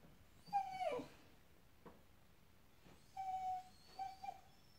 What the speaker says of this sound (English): the puppy is funny, making funny noises.